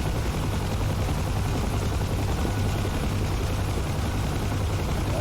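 A Huey helicopter in the DCS flight game makes a continuous, loud, even rotor and turbine roar throughout, with no voices.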